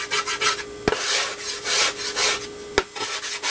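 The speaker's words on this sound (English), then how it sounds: "I take a piece of sandpaper and I sand that off" Sandpaper rubbed over a wooden pizza paddle in steady back-and-forth strokes, a close, continuous rasping hiss with two sharp knocks partway through.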